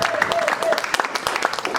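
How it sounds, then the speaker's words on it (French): A church congregation claps and cheers in a brief burst of dense, lively applause, with voices calling out among the clapping. "Oh, continuez à acclamer pour Jésus."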